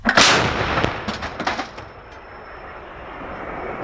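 A single powerful artillery gun firing at the front line booms out sharply, followed by crackling echoes and a long fading rumble.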